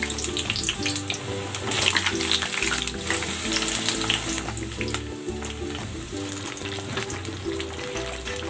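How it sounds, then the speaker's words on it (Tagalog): Loud, dense sizzling of eggplant frying in hot oil, crackling continuously throughout with soft music playing underneath. "Prito ko naman itong talong."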